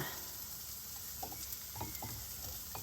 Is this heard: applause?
no